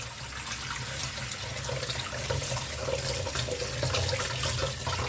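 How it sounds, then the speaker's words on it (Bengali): Running tap water pours continuously over cooked chow mein noodles in a mesh strainer, a steady close splashing gush with no talk. "চাউমিনটাকে আমি একটু রানিং ওয়াটারে ধুয়ে নিচ্ছি যাতে চিপচিপে না হয়"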